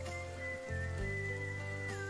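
A brief stretch of steady rain hiss in the western town-building game Depraved, faint under prominent music with held notes and a shifting low tone.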